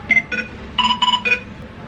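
A phone rings indoors with a short electronic ringtone. Several bright, clipped tone bursts come close together in two quick groups, near and clear, with no speech.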